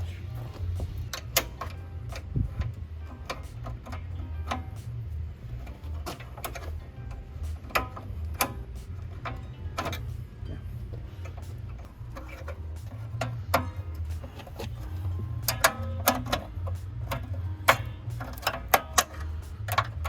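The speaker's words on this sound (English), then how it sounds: "Look, I was moving the latch around." Irregular clicks and light mechanical taps from a car door latch being worked by hand on a junkyard Honda Civic, scattered over a low rumbling background, close by with no talking.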